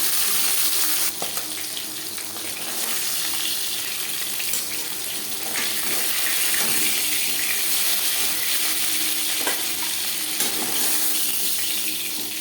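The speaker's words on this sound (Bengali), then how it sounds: "জ্যান্ত মাছ আমি তাই হালকা করে ভেজে নিলাম।" Pieces of silver carp fish fry in hot oil, giving a loud, continuous crackling sizzle close by, broken by a few sharper pops and clinks.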